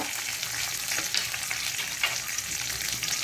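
Curry leaves frying in hot oil for a Mangalore-style cucumber chutney, a loud, continuous crackling sizzle with light stirring, close up and steady throughout.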